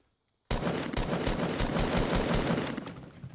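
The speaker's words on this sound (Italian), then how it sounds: "sono più di uno che mi sparano" Sustained automatic gunfire in the online shooter game Fortnite, rapid loud bursts erupting suddenly after near silence and rattling on continuously with several shooters firing.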